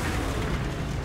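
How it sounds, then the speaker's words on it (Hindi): Explosions in the Mad Max video game, a dense, loud, sustained rumbling blast with no clear separate hits, filling the second without pause. "भाई, क्यों धमाका हो रहा है"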